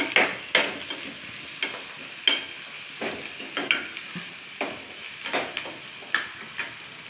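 Onions fry in a pan for chana vegetable curry, a low sizzle under a regular series of sharp spatula scrapes and knocks, about one stir every half second, close and fairly loud.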